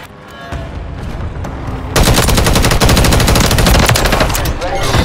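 Loud, dense automatic gunfire from Call of Duty MW3: a lighter burst of shots builds into continuous rapid fire from about two seconds on, with faint game voice callouts in the background.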